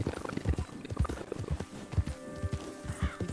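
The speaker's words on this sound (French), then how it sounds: "Tu sais, j'en ai vraiment marre de ces chevaux." Horses walking with irregular, fairly close hoof clip-clops at a slow pace, moderately quiet, with faint background sounds between steps.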